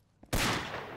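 Sudden loud burst of automatic gunfire in the video game Insurgency, starting after a faint click and sustaining as a dense, continuous volley to the end, with no talking.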